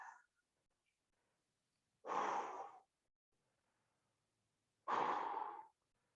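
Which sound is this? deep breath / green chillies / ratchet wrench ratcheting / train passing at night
deep breath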